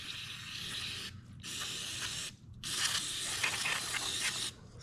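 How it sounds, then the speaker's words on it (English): Aerosol cleaner sprayed into the carburetor of a Honda Foreman ATV: three long loud hissing bursts close up, separated by short pauses, no talking. "Just spray this all out real good."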